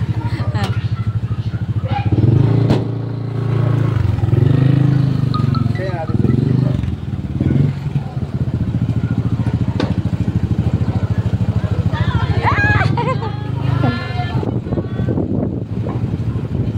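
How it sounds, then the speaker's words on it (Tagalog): A motorcycle engine drones and passes nearby while a person talks over it, with wind buffeting the microphone and occasional clatter. "O, may motor pa."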